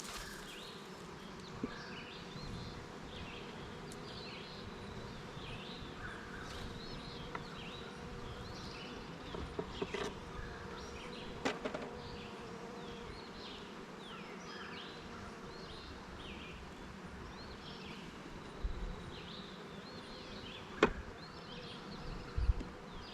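Honeybees hum in a soft, continuous buzz while colonies are split, with a few faint clicks and knocks from hive equipment and no voices.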